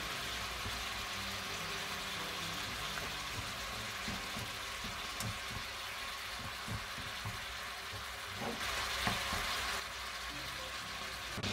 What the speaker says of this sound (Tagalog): Hintayin lang natin mag-brown yung karne